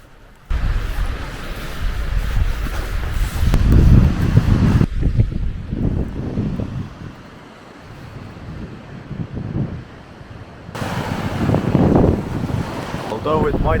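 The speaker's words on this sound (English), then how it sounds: "It is quite windy" Strong wind by a cold seashore gusts loudly across the microphone in long buffeting roars that ease off midway and then surge again, with surf-like rushing beneath.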